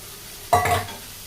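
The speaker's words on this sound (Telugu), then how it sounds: "చికెన్ అనేది వీటిలో వేసేసుకుందాం ఫ్రెండ్స్" Chicken dropped into a hot pan for frying with ice apples, giving one short, close burst of sizzle and stirring that quickly fades into quiet.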